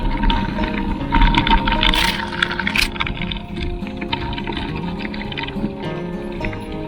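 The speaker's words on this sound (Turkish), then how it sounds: "Bu görmüş olduğunuz dere" A polluted village stream in Turkey, prone to flooding in heavy rain, flows with a steady broadband wash of moving water, continuous and moderately loud throughout, with no talk.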